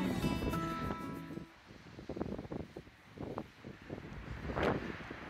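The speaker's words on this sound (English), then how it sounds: "The wind has been pretty rough today." Gusty wind at a campsite in Zion buffets the microphone with rough, uneven rumbling and rustling, loud and close throughout.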